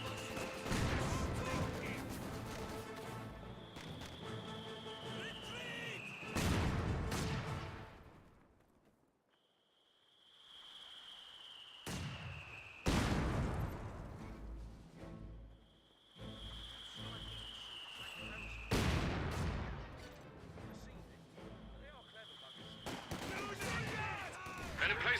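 MG42 machine-gun fire and other battle sounds in Company of Heroes 2 arrive as loud, sharp bursts and blasts, separated by a brief quieter gap with a ringing tone.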